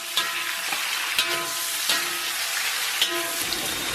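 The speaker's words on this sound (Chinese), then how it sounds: "然后把葱姜下到锅中， 简单给它爆香" Scallions and ginger hit hot oil in a wok, a dense steady sizzle with a few sharp stir clacks from the spatula spaced through it, close and fairly loud with no talk.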